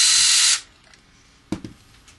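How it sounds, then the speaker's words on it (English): A loud, steady high-pitched power drill whine runs for about half a second while removing guitar pickguard screws and then stops, followed by two faint clicks of a part being handled. "I'm just using a regular power drill here, and I'm just going to go around and pull all the pickguard screws out"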